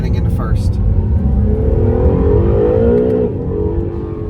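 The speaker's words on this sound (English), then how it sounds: "Typical Honda rev limiter." An Acura NSX engine revs hard up to its Honda rev limiter, a loud, close mechanical roar climbing in pitch for a few seconds before dropping off, with a voice heard briefly.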